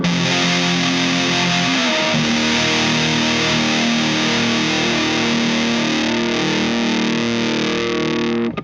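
Heavily fuzzed electric guitar through a fuzz and boost pedal, in a lower tuning, rings out in thick sustained chords, dense and loud, shifting once early on before fading at the very end.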